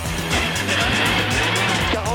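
Rally car charging through a special stage of the Rallye Aveyron Rouergue Midi-Pyrénées on a hot day, its engine roaring steadily close by with tyres scrabbling and squealing on the road, loud and continuous throughout.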